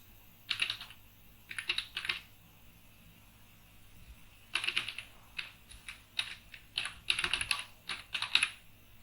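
An email address is typed on a computer keyboard in quick bursts of close, crisp keystrokes separated by short pauses, over a faint steady hum.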